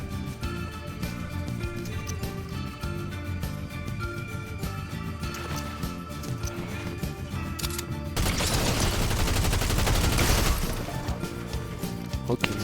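Gunfire and heavy impacts in a battle royale video game on a Squid Game themed map, including a pump shotgun, with dense rapid crackling shots and a louder, noisier burst of fire in the middle of the clip.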